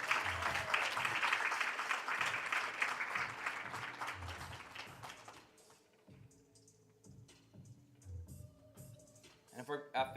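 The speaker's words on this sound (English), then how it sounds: "Can we please clap it up for all the athletes and coaches that won awards today?" An audience at a school sports awards ceremony applauds in a dense, sustained burst that fades after several seconds, while a voice talks over the room.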